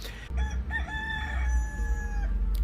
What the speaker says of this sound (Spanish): Es un gallo increíble.